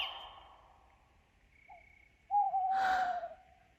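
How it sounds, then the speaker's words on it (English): A staged owl shriek for an audio drama of Macbeth: faint quiet tones at first, then a loud, sharp rising screech with breathy noise that holds briefly, heard alone. "It was the owl that shrieked."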